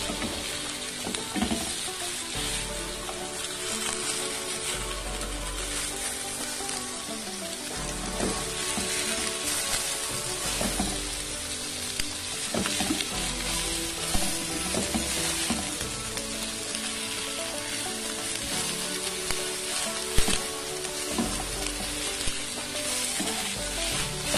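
Homemade ground beef patties sizzle and fry in a pan with a constant, close crackle, broken by occasional scrapes and presses of a utensil, and no talking.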